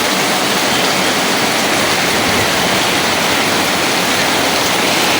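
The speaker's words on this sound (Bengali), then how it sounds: "কি পরিমাণের পানি পড়তেছে দেখেন শুধু বৃষ্টিই পড়তেছে" Heavy rain pours down without wind as a dense, steady hiss that stays loud and even throughout, with no voices.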